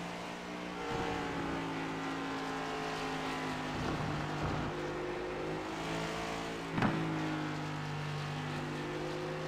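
Onboard engine drone of a race car in a Doghouse Racing League event at Circuit of the Americas, with a steady engine tone throughout, a few gear-change dips and one sharper burst near the end.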